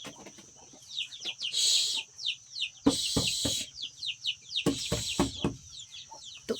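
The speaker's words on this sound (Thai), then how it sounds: "ไก่น้อยเนาะ" Small chicks and hens cluck and peep in a rural forest-dwelling village household, a steady patter of high chirps with louder clucking bursts, close by and without talk.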